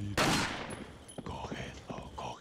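Gunfire in the Resident Evil 4 video game opens with a loud close burst, followed by a scatter of quicker, fainter shots and impacts as the action continues.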